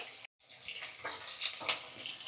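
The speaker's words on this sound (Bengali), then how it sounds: "এখন আমি কিন্তু মিডিয়াম ফ্লেমে রেখেই ভাজছি" Katla fish pieces fry in a pan over a medium flame, giving a steady, fairly quiet sizzle and crackle with a few brighter pops, broken by one very short silent gap near the start.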